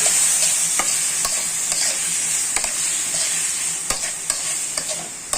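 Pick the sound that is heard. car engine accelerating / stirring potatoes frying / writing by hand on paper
stirring potatoes frying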